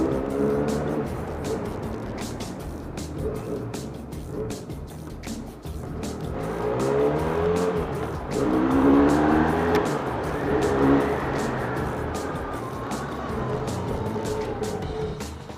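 A Benelli Leoncino 500 Trail motorcycle engine revs up and down in several rising and falling throttle sweeps, fairly close and steady in level, with brief voices in the background.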